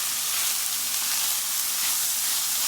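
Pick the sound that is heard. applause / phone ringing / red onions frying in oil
red onions frying in oil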